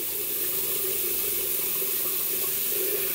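Cold water running steadily from a bathroom tap for rinsing after a shave, a constant, close splashing rush with no pauses and no talking.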